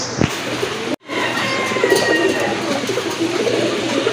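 A healthy fancy pigeon, one of a pair of red Gorra Rajgolla birds offered for sale, coos steadily in a cluttered setting, its soft throaty calls running over continuous background noise after a brief sharp knock near the start.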